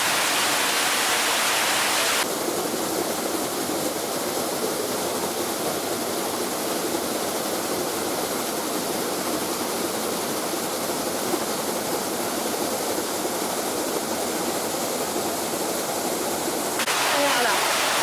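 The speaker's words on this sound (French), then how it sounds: "dès que l'eau tape sur la turbine, le moulin se met en route." Water striking the turbine of an old Savoie watermill as it starts running, a loud, steady rushing roar that swells in and holds for most of the clip before cutting back near the end.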